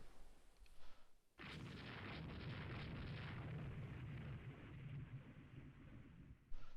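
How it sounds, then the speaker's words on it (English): A torpedo strikes an enemy cruiser in the naval strategy game Rule the Waves 3, setting off a sudden loud blast that rolls into a long rumbling roar and then fades near the end. "Enemy ship CA hit by a torpedo."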